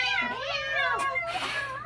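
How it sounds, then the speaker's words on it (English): A cat meows with drawn-out, wavering cries, close by, two or three calls blending together. "Cats!"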